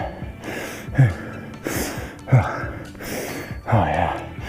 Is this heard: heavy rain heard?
no